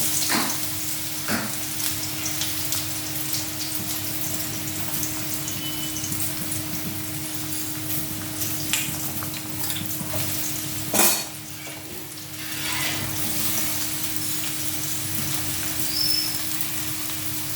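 Long bottle-gourd strips fry in a pan for lau ghonto, giving a steady close sizzle with spoon-against-pan scrapes and clinks while stirring. No one speaks.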